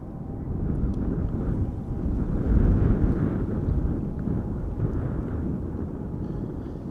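A KLM Boeing 777 nicknamed Orange Pride passes at Schiphol Airport as a deep, rumbling roar that swells to a peak midway and then eases off, heard from a distance amid wind noise.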